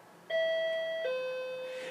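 A doorbell gives a clear two-tone ding-dong chime, the higher note falling to a lower one that rings out and fades.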